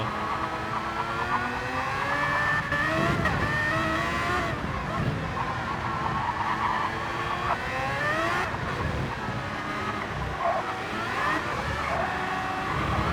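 A race car in a racing video game at Catalunya circuit, engine droning and shifting pitch as tires squeal and the car slides out of control at a chicane exit, continuous and loud throughout.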